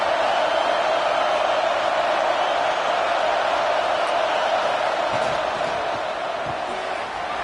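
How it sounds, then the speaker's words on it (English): Stadium crowd at a college football game roaring steadily as the defense holds in the red zone, a dense continuous wall of cheering and noise with a commentator's voice faintly present. "And the crowd coming to life here, trying to help this defense down in the red zone"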